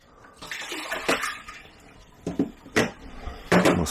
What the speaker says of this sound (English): What we'll do, we'll get rid of that water.